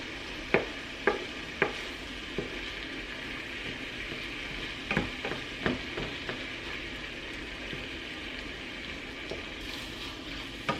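Six eggs being scrambled in the middle of a pan of fried rice, a quiet steady sizzle broken by a series of sharp spatula taps and scrapes against the pan, no voices.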